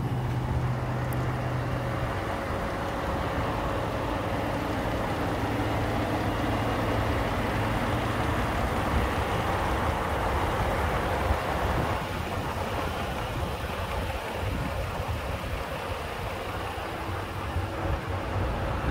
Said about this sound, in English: I'm gonna start the video with the hood up so you can hear the motor